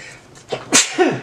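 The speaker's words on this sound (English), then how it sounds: "I'm going to probably sneeze again because I can feel it coming." A single close, loud sneeze with a sharp breathy burst and a short vocal tail, no other sound around it.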